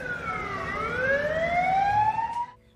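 An ambulance siren wails in rising and falling sweeps, loud and steady, as an emergency vehicle arrives after a ship's emergency docking, then cuts off abruptly near the end.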